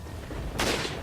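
A single loud burst of gunfire from the Resident Evil 4 video game erupts midway and fades into a short decay over a low background rumble, with no talking.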